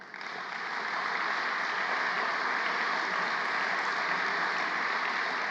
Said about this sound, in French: Je pense qu'eux aussi méritent vos applaudissements.